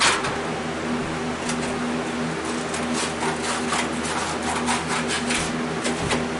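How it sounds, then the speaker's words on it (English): Sandpaper strip rubbed back and forth over round wooden rocker parts, a close, steady rasping scrape with soft rhythmic strokes and no talk. "I'll show you another trick for sanding. Especially all these round things."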